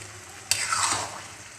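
Chicken and turnip cooking in a pan over medium heat: a sudden stir scrapes through a soft steady sizzle, then the frying settles back to a gentle hiss, fairly quiet with no talking.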